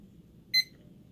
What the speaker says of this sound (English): This is the timer in the background.